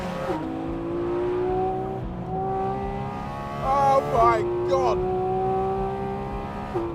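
A 2022 Porsche 911 engine revs and rises in pitch through several gear changes with a sharp blip near the middle, loud and close inside the car, while a voice exclaims over it.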